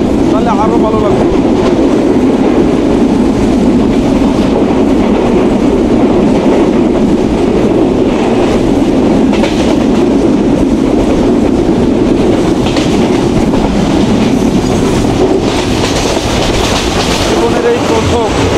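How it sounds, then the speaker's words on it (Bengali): Banalata Express passenger train crossing the Chalan Beel wetland on a nonstop Dhaka to Rajshahi run: a loud, steady rolling rumble with rhythmic clickety-clack of wheels on rail joints and constant wind buffeting throughout. "জীবনের এই প্রথম ট্রেনে চলন বিল পাড়ি দিচ্ছি"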